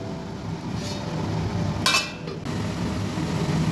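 A lid is set down over a pan of prawn malai curry, made without onion or garlic, on a lowered flame: one brief metallic clatter against a steady cooking hiss, with no talk.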